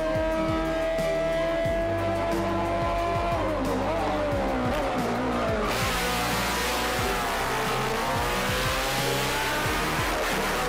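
A race car powers through tight switchback corners on the Pikes Peak hill climb, its engine revving up and down in sweeping pitch glides with bursts of tire scrub, loud and close throughout.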